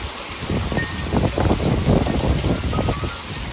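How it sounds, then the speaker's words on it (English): Gusty wind buffeting the microphone during a strong nighttime thunderstorm, a loud continuous rushing roar that swells and eases in waves, with no voices. "Here comes the wind again."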